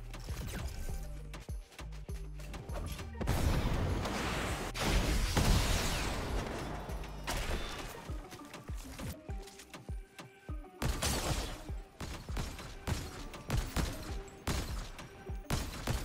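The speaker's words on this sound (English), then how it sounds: "That was gunfire, right?" Bursts of rapid gunfire crackle in a game, with sharp repeated shots and mechanical clatter, moderately loud and without any talking.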